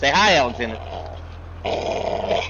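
A dog growls in short bursts while tugging on a tire in a tug-of-war game, with someone talking over and between the growls.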